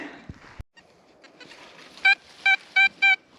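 A metal detector beeps four times in short, evenly spaced tones, loud and clear over a quiet outdoor background.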